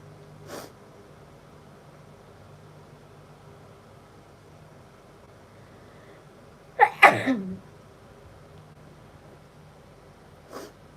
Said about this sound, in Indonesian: Kan gua bersin-bersin lah mulai.